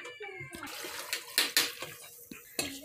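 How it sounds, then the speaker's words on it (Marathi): Water is poured into a pressure cooker over chopped potatoes and soaked peas, making a close, steady splashing pour with a few sharper splashes and knocks, and no one talking. "यात लागेल तेवढं पाणी ओतून"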